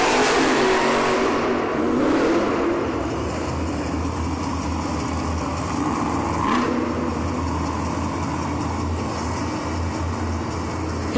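Monster Jam monster trucks rev their engines loudly at the start of a head-to-head race in an indoor arena in Kansas City, a sustained roaring drone with rising surges and crowd noise behind it.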